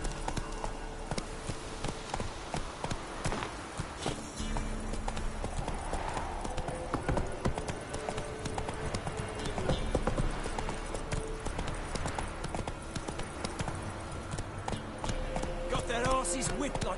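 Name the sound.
horse Roach hooves in The Witcher 3 video game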